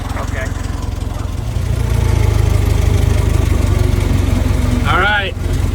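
A Model T Ford engine running steadily on the highway in second gear, a low rhythmic chugging drone that swells and holds loud and close, with a brief voice near the end.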